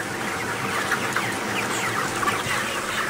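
Chickens cluck in a crowded poultry farm shed, a dense, steady chorus of many birds close by with no talking over it.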